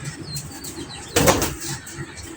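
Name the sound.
restless pigeon flapping its wings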